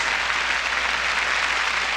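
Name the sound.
congregation applause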